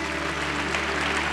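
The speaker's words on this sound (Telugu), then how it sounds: "అందరు చప్పట్లు కొట్టండి" Dense, steady applause from an audience at a church sermon gathering, a continuous wash of clapping with no break.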